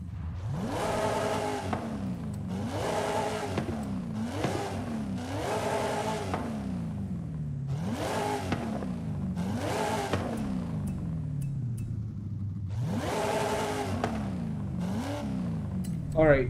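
Supercharged drift car with its cams removed, revving in a racing video game played on a Logitech G29 wheel: a series of sharp, repeated throttle blips that climb and fall in quick succession over a steady engine drone.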